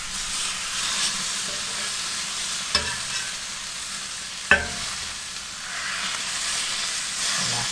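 Bacon frying on an Aldi kamado grill, a steady close hiss and sizzle throughout with two sharp clicks of tongs or metal taps partway through.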